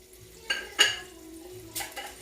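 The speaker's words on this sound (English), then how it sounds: "you can take like a light cup" A light cup is set down onto a frying pan, giving a few soft clinks and knocks in a quiet kitchen. There is no talk.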